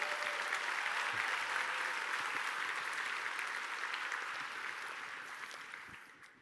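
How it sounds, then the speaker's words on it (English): Conference audience giving a big round of applause for five companies at a keynote, dense sustained clapping from a large room that stays strong and then thins and fades out near the end. "Please give a huge round of applause to these 5 companies."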